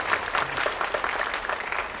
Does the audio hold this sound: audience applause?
yes